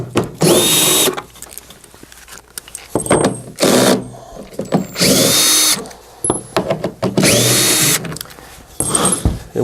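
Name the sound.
nut driver removing housing bolts on Phoenix DryMAX XL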